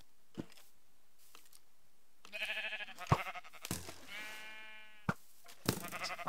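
Several bleats from a Minecraft sheep ring out clearly with short gaps between them, mixed in with other blocky game sound effects and a few sharp clicks.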